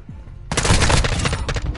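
M4 rifle fire in a PS4 shooter game, a sharp, loud burst of rapid automatic shots that starts abruptly after a brief quiet moment and rattles on steadily to the end.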